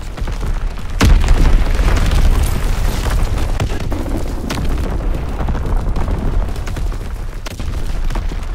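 An enemy artillery bomb explodes in Call of Duty WWII, one loud close blast followed by a heavy rolling rumble and further scattered battlefield booms.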